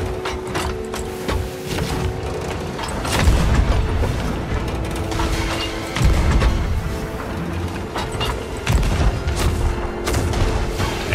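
Booming cannon blasts ring out repeatedly during a Sea of Thieves ship battle, heavy low thuds recurring every few seconds amid creaking wooden mechanisms and clattering, loud and continuous.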